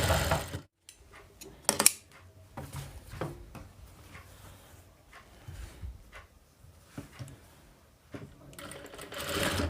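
A sewing machine basting a blouse seam, running in short bursts of rapid mechanical ticking separated by brief pauses and fabric handling, close and moderately quiet.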